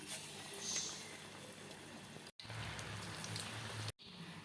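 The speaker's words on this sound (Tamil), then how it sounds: "எண்ணெய் சூடாயிருச்சு, எண்ணெயில் போட்டு எடுத்துக்கலாம்" Sundakkai bondas frying in hot oil give off a steady, dense sizzle and crackle, with two brief dropouts near the end.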